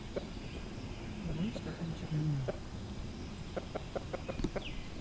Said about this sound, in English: Handsome rooster.